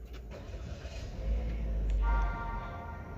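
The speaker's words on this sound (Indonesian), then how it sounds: "tekan sarsa engine button di sebelah kiri sini untuk menyalakan mesinnya" A 2021 Toyota Veloz engine cranking and catching after a push-button start, a brief starter whirr swelling into a steady low idle rumble, close by with no talk.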